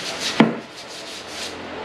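A random orbital sander fitted with a 220-grit disc works a wooden jewelry box up close, giving a steady abrasive whir with one sharp knock near the start.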